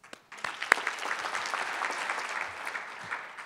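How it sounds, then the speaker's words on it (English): An audience at the 2013 Mary Catherine Strobel Awards applauds the finalists in a hall, a dense burst of clapping that starts suddenly and carries on steadily for a few seconds. "If we could just have another round of applause for all the finalists"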